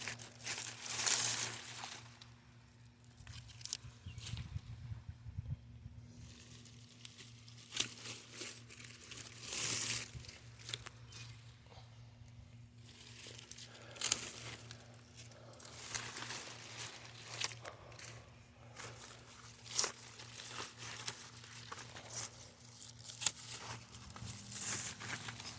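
Large overgrown garden weeds being cut back, with crunchy, crinkling snips and rustling of thick stems and leaves in an irregular, fairly close series over a steady low hum.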